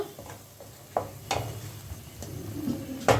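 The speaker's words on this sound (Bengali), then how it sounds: "এবার আমি মশলাটাকে কষা হতে দেবো, একটু তেল বেরোতে দেবো" Masala spices cooking down in oil for doi katla, a soft steady sizzle with a few scraping stirs and clinks at a moderate distance, no talking.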